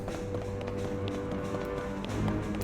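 Running footsteps in the video game The Legend of Zelda: Tears of the Kingdom, a quick steady patter of light steps over a droning game ambience, moderately loud and continuous with no talk.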